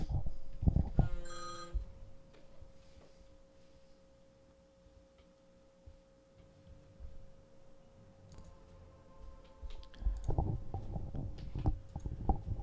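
Phone ringing from an unknown number: a short burst of electronic ring tones, then a quiet stretch with a faint steady tone, before louder rustling and movement near the end.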